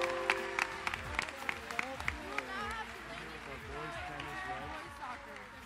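Applause at a high school homecoming assembly in Pueblo West, with a crowd clapping and cheering steadily through the whole stretch, punctuated by a few sharper claps near the start.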